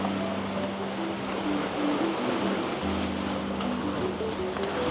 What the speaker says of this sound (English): I love the sound of those waves splashing against the rocks.